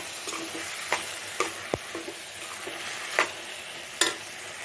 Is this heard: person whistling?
no